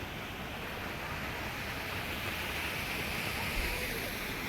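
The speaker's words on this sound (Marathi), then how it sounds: "इकडं बघ की पाणी कसलं भारी पडायला लागले." Water tumbles down a garden waterfall at Siddhagiri garden in Kaneri, Kolhapur, giving a constant, moderately soft rushing wash that holds steady from start to end.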